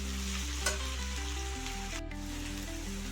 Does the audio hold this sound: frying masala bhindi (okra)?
yes